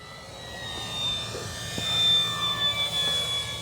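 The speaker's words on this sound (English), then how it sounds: "Let's do a takeoff over the grass here." An Arrows Bigfoot 1.3 m electric RC plane takes off over grass, its motor giving a steady high-pitched whine that swells as it throttles up and passes nearby, fairly loud with faint outdoor background.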